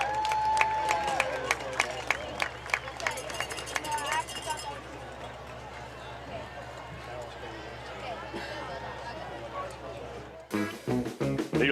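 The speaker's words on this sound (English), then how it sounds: "Let's give another round of applause for the Pride of Malakoff Band." A football-game crowd applauds and cheers the Pride of Malakoff high school marching band in a stadium, the clapping swelling and then thinning, with an announcer's voice and other talk running over it.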